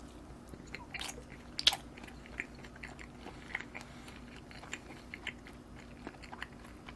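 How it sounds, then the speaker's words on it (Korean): Chewing on a seaweed-wrapped rice roll topped with tuna, soft crunchy bites recurring close to the mic at an irregular pace, with a couple of sharper clicks and a steady low hum underneath. "여기에 참치를 올려 가지고 이렇게 한번 먹어 볼게"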